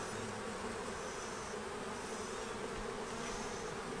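Dense, steady buzzing of many honey bees around an opened wooden hive, close and continuous, with no voices.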